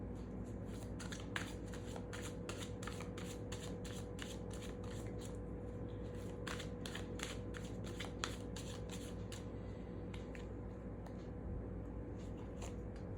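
Tarot cards being shuffled and drawn, a steady run of crisp riffling flicks and card slaps close up, pausing briefly midway, with no talking.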